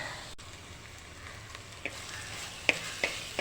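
Tomato pieces fry in a pan for ribbonfish curry, a low steady sizzle with a few sharp utensil scrapes and taps as they are stirred, no speech.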